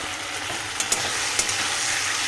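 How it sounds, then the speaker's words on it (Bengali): Chopped chicken meat with spices frying and being stirred in a pan for chicken chow mein, a steady sizzle with a few sharp scraping clicks from the spatula, close and alone. "এই যে আমি মাংসটা কষাচ্ছি"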